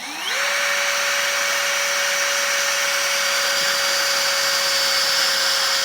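A power drill spins up and drills steadily into a metal corner armor bracket during an off-road vehicle installation, giving a loud continuous whine that runs unbroken for several seconds, with no talking.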